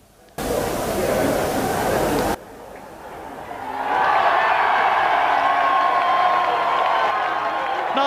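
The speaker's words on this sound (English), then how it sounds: "Nigel Mansell in front of the adoring British crowd" A large British crowd cheers Nigel Mansell at the 1991 British Grand Prix. A loud broadband burst gives way to quieter noise, then a sustained swell of cheering and hubbub from a distance, with speech mixed in.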